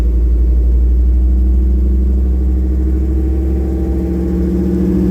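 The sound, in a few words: 1966 Ford Bronco being driven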